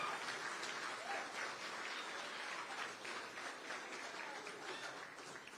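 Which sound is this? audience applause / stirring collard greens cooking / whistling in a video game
audience applause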